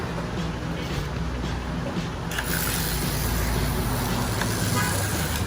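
An Aurora slot car buzzing steadily around a track as it drifts through the turns, a continuous close motor whir and rumble that grows slightly louder partway through, with a voice talking over it.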